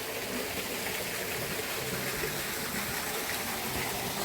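A mountain stream rushes past a wooden hut in Poliana village, Zakarpattia, with a constant broad wash of flowing water that stays even and close for the whole stretch.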